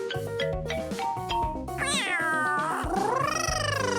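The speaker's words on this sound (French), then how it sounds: "Oh, quelqu'un miaule. Un chaton?" A kitten meows several times in clear, rising and falling cries against a background of loud music, the calls growing longer and more drawn out toward the end.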